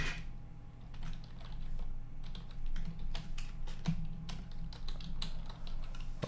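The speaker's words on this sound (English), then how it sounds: "I'm typing it very slowly." Slow typing on a computer keyboard, with irregular soft key clicks spaced out over a quiet room hum, close and faint, with no voices.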